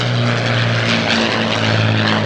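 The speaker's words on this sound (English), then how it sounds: "It was followed by another bomber, the mighty Avro Lancaster from the Battle of Britain Memorial Fight." Avro Lancaster bomber PA-474 of the Battle of Britain Memorial Flight passing overhead, its piston engines and propellers producing a loud, steady, deep throbbing drone that holds without a break and without any voices.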